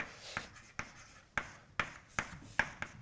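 Chalk or marker taps and strokes on a board during a maths lecture: a series of short, sharp, fairly faint writing sounds spaced roughly half a second apart in a quiet room.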